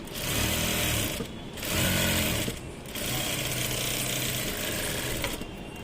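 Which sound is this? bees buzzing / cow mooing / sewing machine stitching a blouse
sewing machine stitching a blouse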